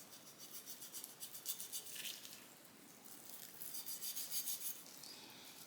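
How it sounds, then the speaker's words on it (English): A knife trimming excess fat off a raw pork shoulder, soft rhythmic rubbing and slicing strokes close by, faint and steady with no talking. "I'm going to just get some of this excess fat off."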